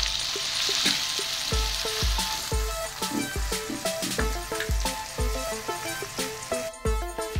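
Ginger garlic paste sizzles and fries in a pan with green chillies for a village-style dal chana, a loud continuous sizzle punctuated by repeated rhythmic scraping stirs, no talking.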